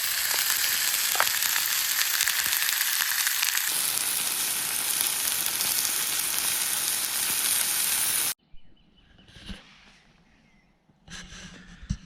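Loud, steady sizzling of meat frying in a pan at a field campsite, a dense hiss that cuts off abruptly, followed by quieter scraping and clatter.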